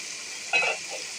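Seeded banana curry sautéing with turmeric and chili powder holds a soft, even sizzle, swelling into a brief louder burst of frying and stirring midway before settling back.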